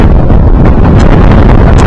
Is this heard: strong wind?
yes